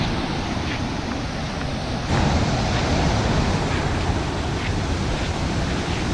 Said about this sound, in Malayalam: ഈ വെള്ളത്തിൻ്റെ സൗണ്ടൊക്കെ കേട്ട് ഇവിടെ ഇരിക്കാൻ തന്നെ എന്നാ പൊളിയാ